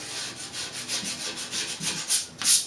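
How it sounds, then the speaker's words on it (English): Sandpaper rubs by hand over wood to strip leftover paint while block mounting a poster, a series of rhythmic close scratchy strokes that grow louder and sharper toward the end. "you just take a bit of sanding paper again and just be sure that you get all that paint off"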